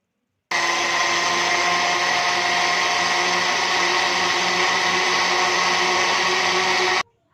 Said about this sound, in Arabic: هضرب المكونات دي كلها مع بعضها